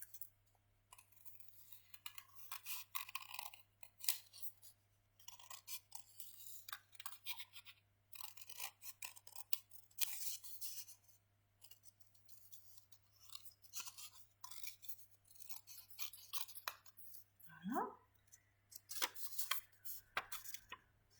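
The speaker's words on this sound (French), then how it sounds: "Puisque j'ai plié le papier en deux, bah, je peux les découper en une fois" Scissors snip through folded paper, cutting out wings for an Easter rooster craft: a close series of short crisp cuts and scratchy rustles across the whole stretch, steady hum underneath, no voices.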